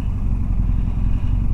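A motorcycle engine runs steadily on an expedition ride along Argentina's Ruta Nacional 40 near the border crossing, giving a loud, continuous low rumble close by.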